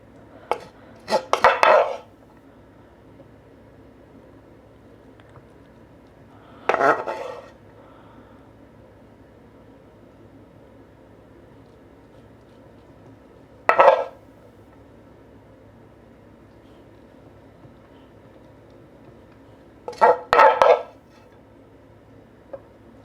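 Rice is pressed into a bowl to fill the gaps for Chinese egg fried rice. Four separate bursts of utensil-on-bowl clatter and scraping are heard up close, with quiet pauses between them.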